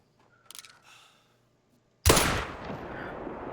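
A single loud hunting rifle shot in theHunter: Call of the Wild, a sharp crack followed by a long rolling echo that fades out, with a few quiet clicks and handling sounds before it.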